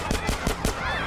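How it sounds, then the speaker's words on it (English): Gunfire in Grand Theft Auto: San Andreas: a quick run of about five evenly spaced shots, close and fairly loud, over a steady game background. "Oh, they're shooting now?"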